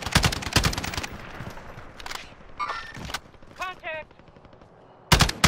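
Gunfire in Call of Duty Warzone: rapid bursts of automatic shots at the start and again near the end, with scattered game sounds and quieter stretches in between.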